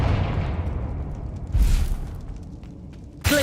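Confringo fire spell blasts in Hogwarts Legacy, a rumbling boom fading out, then another impact and a sharp burst at the end, loud and close.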